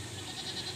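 A goat bleats briefly while feeding on a large pile of grass, one short, steady, close call with no talk.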